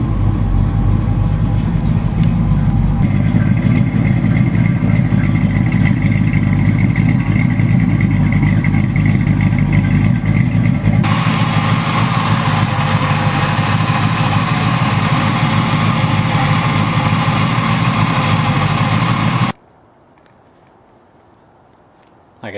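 A 1973 Dodge Challenger's factory 340 V8 idles steadily with a deep, rumbling low-end throb, running continuously for about twenty seconds before cutting off abruptly near the end.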